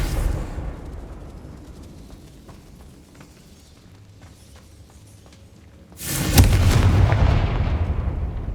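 Confringo blasting spell in Hogwarts Legacy, a quieter stretch of low battle rumble and small pops that gives way to a sudden loud explosive burst, whose roar then sustains to the end.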